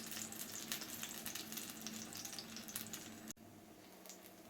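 Apple pancakes made with kefir batter fry in a pan over low heat. A soft, steady sizzle runs throughout, faint and even, with no voices.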